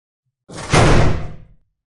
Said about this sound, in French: Sans crier gare, la porte de l'entrée s'ouvrit